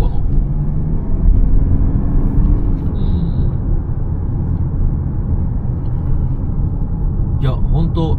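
Mazda CX-5 diesel with a manual gearbox driving on the road, a steady low engine and road rumble heard from inside the cabin, with a person talking briefly near the end.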